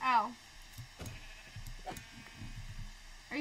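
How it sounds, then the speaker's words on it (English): Sheep bleat in a survival video game, one clear bleat at the start and another near the end, with people talking in between. "There are a ton of sheep."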